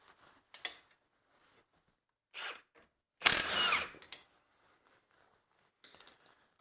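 A power tool loosens a 30mm front strut nut on a 2002-08 Toyota Camry, firing in one loud, harsh burst of under a second, with a few faint metallic clinks before and after.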